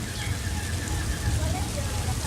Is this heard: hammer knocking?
no